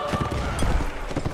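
Rapid hoofbeats of a galloping horse in Mount & Blade Warband Napoleonic Wars clatter in a galloping rhythm, up close and loud, with a game-like mix of other noises around them.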